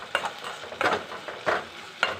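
Tomatoes fry in a pan, stirred with a spoon in four distinct scraping strokes over a low sizzle, close and unhurried, with no voices.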